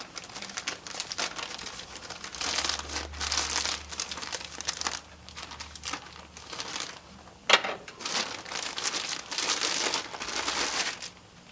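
Plastic wrapping around a garment in an eBay package crinkles and rustles continuously as it is opened, with close, irregular crumpling and one sharp crackle, no voices.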